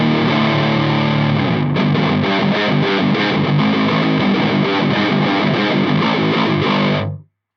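Electric guitar played through a Belcat distortion pedal, loud and saturated with a steady chugging drive, continuous strummed riffing for about seven seconds before cutting off abruptly.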